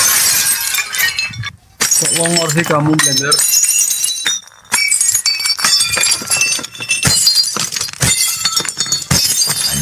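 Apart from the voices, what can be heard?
plates being smashed and shattering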